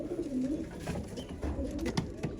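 Mor Istanbul pigeons coo softly in a low, throaty rolling pattern close by, with faint rustling around them and no talking.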